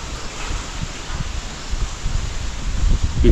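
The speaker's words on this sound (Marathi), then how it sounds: "आता खूप वारा म्हणजे भरपूर वारा झाला" Strong wind blowing outdoors at a homestay, a rough, rumbling rush buffeting the microphone in uneven gusts that build louder toward the end.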